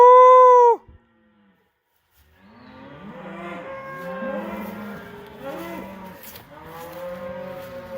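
Cattle on the move during a reverse cattle drive on grazing land. A single close moo opens, then a pause, followed by several overlapping lowing calls from the herd at middle distance, repeating in uneven waves.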